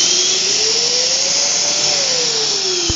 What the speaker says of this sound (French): il ne suffit plus que d'allumer l'aspirateur